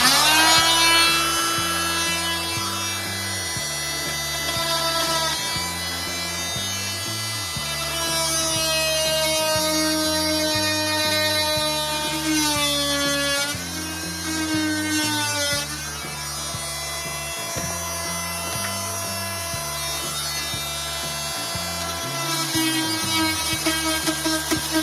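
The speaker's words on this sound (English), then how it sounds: "And they make these oscillating tools cordless, but I happen to have a outlet right here." A corded oscillating multi-tool cuts steadily during a home repair, its high, buzzing whine running loud and continuous for the whole stretch with small pitch shifts as the blade bites.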